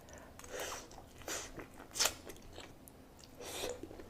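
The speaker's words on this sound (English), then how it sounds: "I hope y'all heard the crunch on that." Crunchy bite into a spicy fried chicken wing from a hot chicken takeout meal, with a sharp crackling crunch standing out among softer close-up chewing and biting sounds, no speech.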